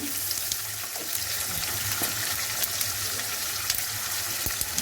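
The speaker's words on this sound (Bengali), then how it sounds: "যে তেল ছিল সেই তেলে আমি এই জিরে ফোড়ন দিয়ে দিলাম" Cumin seeds sizzle in hot frying oil left from frying fish for a spinach and fish curry, a steady close crackling hiss with faint clinks and no talking.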